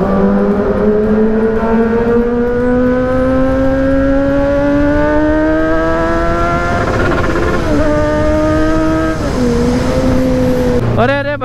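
A loud Kawasaki Z900 sport motorcycle engine drones steadily close by, its exhaust note slowly rising in pitch, then dipping and revving near the end.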